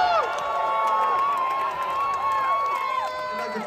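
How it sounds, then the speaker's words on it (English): A large concert crowd at a show cheers and shouts continuously in a dense, loud wash of voices, whoops rising above the roar for the whole stretch. "Thank you so much for all your energy and your applause."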